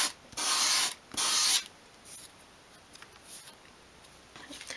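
A miniature 1/12 scale wooden wardrobe edge is bevelled with light abrasive strokes: two strong, rasping sweeps close together, then fainter, scattered scratching that fades toward the end.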